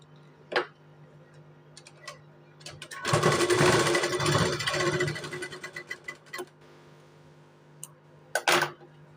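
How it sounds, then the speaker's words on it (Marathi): A sewing machine runs in a steady burst of rapid stitching down the centre of a blouse sleeve for a few seconds, framed by scattered clicks and taps before and after. "आता इथे मध्ये सेंटरला शिलाई मारून घेऊया मशीनची"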